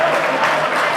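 An audience at a university gas engineering quiz contest applauds a team after scores are announced, a dense, even burst of clapping, fairly loud and close.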